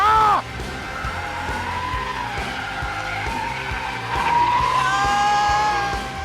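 A supercharged Chevrolet Trailblazer SS drifts through a course, its tires squealing in a long continuous skid over a steady engine roar, loud and close, with the pitch of the squeal shifting as the slide goes on.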